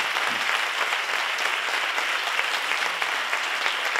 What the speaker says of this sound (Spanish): para que pida un aplauso